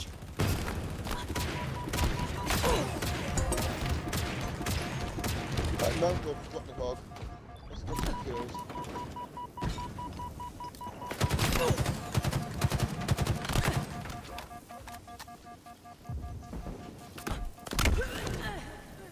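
Halo Infinite gunfire, bursts of rapid shots and sharp cracks scattered through the clip, moderately loud under a person talking.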